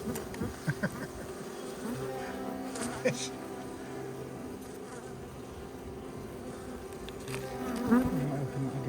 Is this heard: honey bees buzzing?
yes